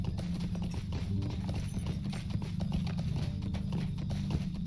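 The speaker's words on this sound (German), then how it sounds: "es ist schön, mal wieder mein Pferd hier zu reiten" Horse hooves clip-clop in a quick, steady rhythm as a rider travels in a Lord of the Rings video game, the hoofbeats continuous over a low background rumble.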